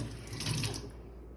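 Water runs steadily from a tap, a continuous splashing pour that fades slightly toward the end.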